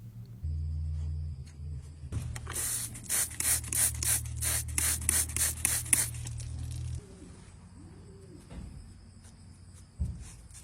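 Hoof trimming on a Brown Swiss cow: a steady low motor hum runs under a rapid series of rhythmic rasping, scraping strokes, then the scraping thins into a quieter hiss with occasional knocks.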